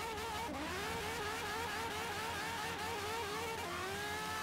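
A Ferrari 599XX engine at a race start in Forza Horizon 3, revving loudly and continuously as the pitch climbs through gears, with a sustained roar close up and no talk.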